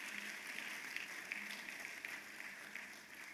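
A conference crowd claps steadily, a dense, sustained round of applause filling the hall, moderately loud and continuous throughout.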